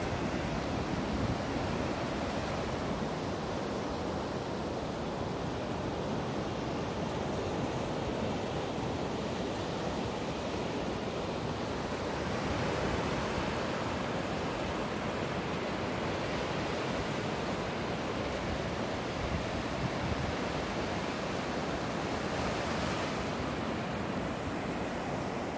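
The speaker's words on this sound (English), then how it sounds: "It is an overcast day, so I hope that you can appreciate this water." Ocean waves wash continuously onto a beach on an overcast day, a dense, steady roar of surf with some wind buffeting and no talk.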